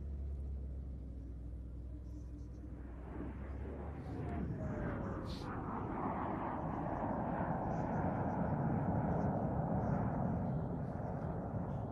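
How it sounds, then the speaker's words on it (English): Jet airplane powered by a Rolls-Royce Avon engine flying overhead, a broad roaring rumble that swells after a few seconds and holds steady and loud, with a faint descending whine cutting through the roar. "that is such a beautiful airplane."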